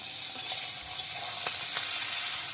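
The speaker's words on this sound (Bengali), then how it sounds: "এবারে মাছটাকে উল্টে দিচ্ছি," Small pond fish sizzle in a wok of hot mustard oil as they are flipped, a continuous crackling hiss broken by a couple of soft clinks from the spatula.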